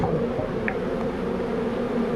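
Steady buzzing of a honey bee colony, a continuous dense drone filling the air without pause.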